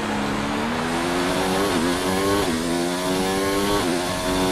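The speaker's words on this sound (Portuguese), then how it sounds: "Olha o barulho que o carro tá fazendo." A Formula 1 car engine in the game F1 2019 at the British Grand Prix whines continuously at high revs, its pitch dipping briefly at gear shifts, loud and close throughout.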